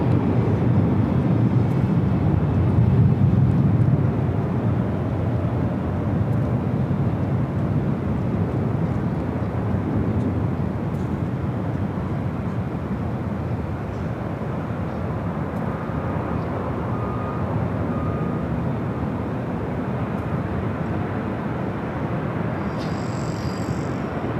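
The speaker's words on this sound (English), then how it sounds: "Airlines Flight 713 coming in from JFK and a 767-300ER." A Boeing 767-300ER airliner arriving at Los Angeles LAX, heard as a loud, continuous low jet roar that fills the whole stretch, steady and broadband with a slight swell near the start, alone without talk.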